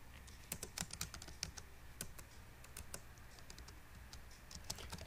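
Fingers type on a computer keyboard while entering Visual Basic code, a quiet run of uneven, close clicking keystrokes in irregular bursts.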